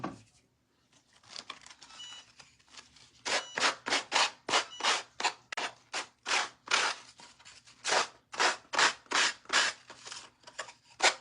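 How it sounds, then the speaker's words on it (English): Sandpaper rubbing the little edges off a napkin-decoupage craft piece, a Christmas Story napkin makeover, in a close, steady run of about twenty brisk, rhythmic strokes with short gaps between them. "We're just gonna sand the little edges off this one as well."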